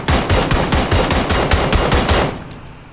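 Rapid automatic gunfire in the battle royale game PUBG Battlegrounds, a loud, close burst of evenly spaced shots lasting over two seconds before stopping abruptly and fading.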